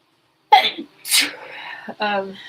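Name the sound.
sneeze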